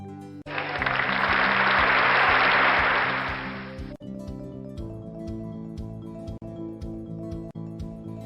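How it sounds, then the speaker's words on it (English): Audience applause for award winners at a volunteer felicitation event, a dense wash of clapping that swells over a few seconds against background music and then drops away while the music continues alone. "Please give both our Outstanding Sapphires a round of applause."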